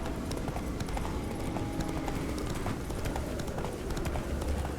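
Roach, Geralt's horse in The Witcher 3: Blood and Wine, gallops in a fast, continuous clip-clop of hooves at close range, with no voices.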